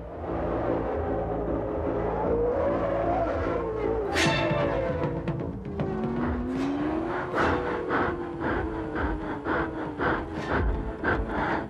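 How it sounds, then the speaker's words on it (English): Formula One cars racing on a circuit, engine notes climbing and falling as cars pass by, with sharp high whines and rapid bursts of revving, moderately loud and without talk. "This is Formula One racing."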